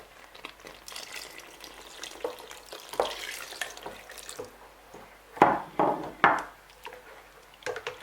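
Groundnut peanut butter soup being stirred in a pot, with soft scraping and liquid sloshing that grows louder near the end in a few thicker swishes, no voices.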